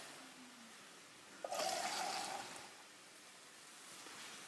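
Water from a tin splashes into a pan of chopped tomatoes in a home kitchen, a short burst of about a second of pouring and trickling, otherwise quiet.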